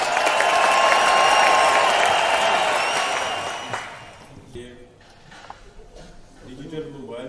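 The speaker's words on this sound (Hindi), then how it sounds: "तालियां।" Loud, dense applause from a crowd at a silver jubilee award ceremony for a mobile repair institute in Daska, swelling for several seconds then fading into scattered claps and murmuring voices.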